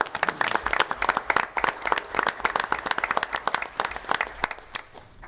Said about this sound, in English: So if we could give a round of applause to Heather Bay.